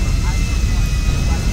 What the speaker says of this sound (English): Do we want two or one jet?